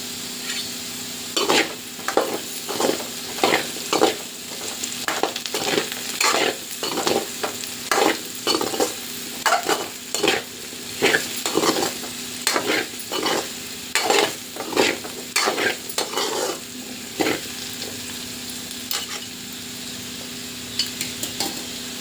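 Potatoes frying with turmeric in a pan, stirred with a spatula in a quick run of rhythmic scrapes and clinks over a steady sizzle, then the stirring stops and only the frying continues.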